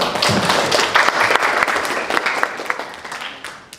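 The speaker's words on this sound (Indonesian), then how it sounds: "bisa tepuk tangan dong" A classroom group claps in a short burst of applause during a lesson, the clapping close and uneven with a few sharper individual claps, fading gradually over nearly four seconds.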